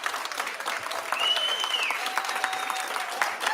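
An audience at a school board meeting claps in a sustained, even burst of applause that holds from start to finish, with no speech over it.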